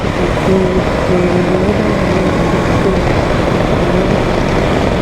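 Continuous loud engine drone and wind roar from a Honda BigWing motorcycle cruising on a road in Kolkata, heard from the rider's position with a faint steady whine throughout.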